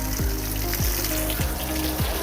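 Water runs from an elephant statue's trunk, a continuous splashing trickle with soft rhythmic thuds repeating about every half second, close and steady with no talking.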